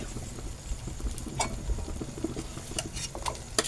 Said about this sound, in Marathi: थोडे थोडे टाकायचं आणि ढवळून घेऊ